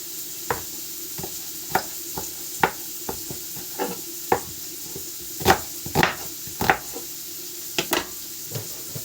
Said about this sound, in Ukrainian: і поки підсмажується наш бурячок